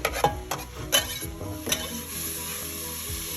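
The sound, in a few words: onion being stirred and frying in a pan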